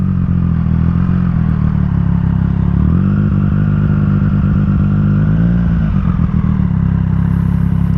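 Engine of a 2020 Triumph Street Triple RS motorcycle, a loud continuous mid-low drone heard up close while riding, with slight shifts in pitch as the revs change and no speech.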